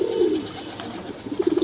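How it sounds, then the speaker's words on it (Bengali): Loft pigeons released together at bath time coo in low, throaty rolls, first a long coo and then a quick pulsing run near the end, with no voices. "আমাদের লফটের যত পায়রা সব পায়রা আজকে একসাথে ছেড়ে দিয়েছি, চান দেওয়া হচ্ছে।"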